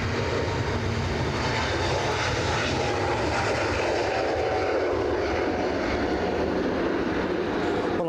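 A jet airliner, an A321-type, taking off on the runway at Edinburgh airport, its engines a continuous loud roar at a distance, steady and broad with a low rumble beneath.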